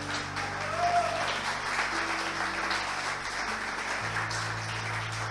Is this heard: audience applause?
yes